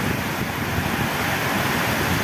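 Steady rain and gusting wind on a village rooftop during continuous monsoon downpour, a dense unbroken wash of noise with wind rumbling against the microphone throughout, no voices.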